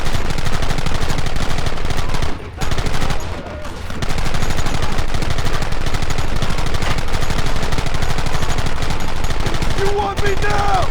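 Gunfire from a Red Dead Redemption shootout, a dense and loud fusillade of shots that continues almost without a break, with a short lull partway through. Faint voices are mixed in under the shooting.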